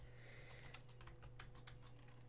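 Quick, light keystrokes on a computer keyboard tap out a short burst of typing, close and quiet over a steady low electrical hum, no speech.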